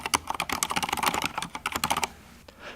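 Rapid typing on a Corsair K70 LUX mechanical keyboard, a dense run of crisp, close keystroke clacks that stops abruptly and leaves a short quiet tail.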